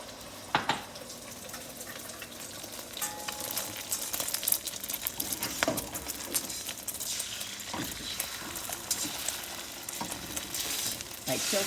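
Whole eggs fry in a hot pan, a busy crackling sizzle with popping spits and occasional scrapes from tilting and stirring, close and steady throughout.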